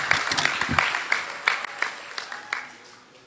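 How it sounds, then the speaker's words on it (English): Audience applause at a graduation ceremony in the Gambia, a scattered round of hand claps with distinct individual claps standing out, moderately loud at first and thinning as it fades. "A round of applause for you, please."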